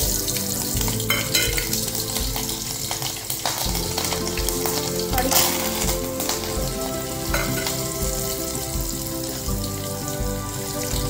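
Mustard seeds and chili crackle and sizzle in hot oil for a tempering, a dense, steady frying hiss with scattered pops and spatters, close and loud, with no voices.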